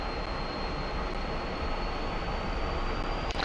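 MiG-15 jet in the DCS flight simulator rolling for takeoff on the runway, a steady broad engine roar with a faint thin whine held throughout, moderately quiet, continuous and without voices.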